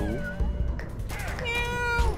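A cat in the Fallout Shelter game lets out drawn-out, wavering meows, loud and close against faint background game sound.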